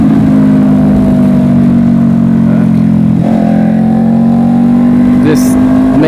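Honda CBR500R motorcycle with a short aftermarket exhaust, a loud steady engine drone close to the microphone under continuous riding noise, with a slight rise in pitch and a brief bump in the middle.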